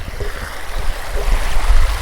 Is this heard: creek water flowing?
yes